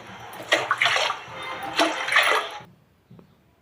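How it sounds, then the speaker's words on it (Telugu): Water splashes into a pot of semolina in two short pours, close and fairly loud, followed by a brief quiet drip. "నేనైతే ఇక్కడ ఒక గ్లాస్ రవ్వకి 9 గ్లాసులు వాటర్ పోసాను"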